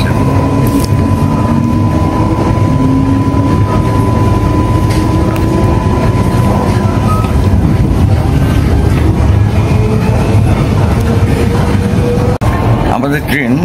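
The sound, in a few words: train riding to Brisbane Central station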